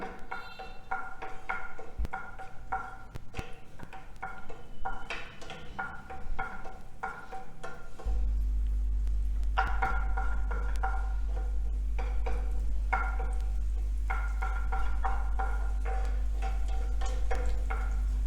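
Garlic, chili and ginger sauté in hot ghee, a soft sizzle mixed with light stirring taps and ticks, with a constant low hum from about the midpoint on.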